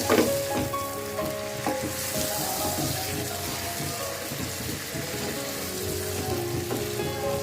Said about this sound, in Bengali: মাছগুলো দিয়ে ভালো করে নাড়াচাড়া করে